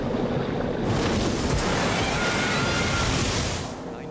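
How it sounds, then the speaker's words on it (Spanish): Violent Pacific Ocean waves crash and churn against a sailboat wrecked on a reef, a loud, continuous roar of surf and rushing water that swells through the middle and eases slightly near the end. "lo golpean olas terribles y violentas"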